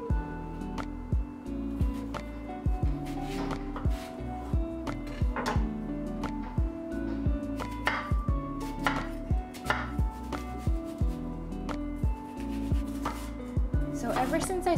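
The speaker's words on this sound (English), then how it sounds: "I've been dicing my onions like this" A knife dices onions on a cutting board in quick, steady chops, each a crisp close knock, repeated at a regular rhythm throughout.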